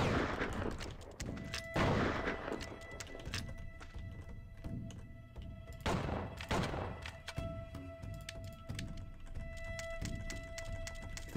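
Gunfire in the western video game Outlaws: several loud sharp shots spaced apart, with horse hoofbeats and ambient game noise between them, no speech.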